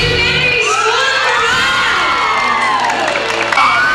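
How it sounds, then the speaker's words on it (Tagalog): Children's voices in a mall crowd at a Christmas caroling competition shouting and cheering loudly and continuously, with rising and falling whoops over a steady roar. "Napuno ng hiyawan at palakpakan ng SM Bacolod para sa Kapuso sa Pasko Caroling Competition."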